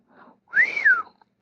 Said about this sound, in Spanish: distensión que Kiri no tardó en aniquilar emitiendo un pequeño silbido